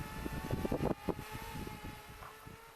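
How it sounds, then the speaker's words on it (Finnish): Wind pressing on a microphone outdoors during osprey ringing in Ilomantsi, a steady broadband rush with irregular louder gusts and buffeting throughout, close and fairly loud. "Tuuli painaa niin kauan."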